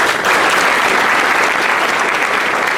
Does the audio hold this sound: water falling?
no